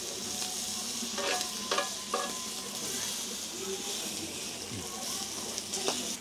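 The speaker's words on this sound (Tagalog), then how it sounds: "don't know kung gaano katagal dapat niluluto ang mga ganito kakapal na bacon" Thick whiskey-cured bacon frying in a pan, a constant close sizzle and crackle with scattered pops and a few scraping, clinking touches against the pan.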